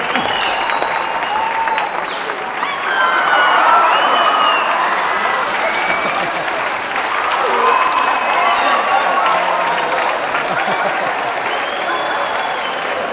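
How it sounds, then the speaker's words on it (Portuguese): Studio audience applauding steadily to welcome two guests onto a Brazilian Christmas comedy show, a dense, even wash of clapping with some cheering that holds for the whole stretch. "eu queria que vocês recebessem com uma salva de palmas Vitor Amaro e Léo Ferreira"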